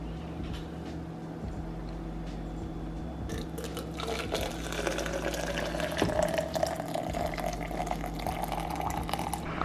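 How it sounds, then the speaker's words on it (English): Hot water pours from a kettle into a tea strainer to brew tea at home, a steady liquid trickle over a low constant hum that grows a little louder and splashier partway through. "For Hui's, I'm going to put this in here and then pour the hot water."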